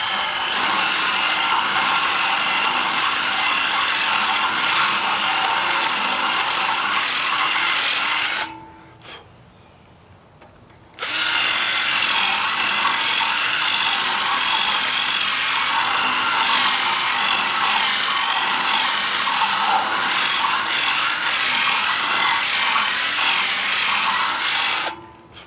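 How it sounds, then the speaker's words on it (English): Power drill boring through a painted metal trailer frame to reach bare metal, a loud steady grinding whir running continuously, cutting out for about two seconds midway, then resuming just as steadily to the end. "I'm going to take a drill and drill out."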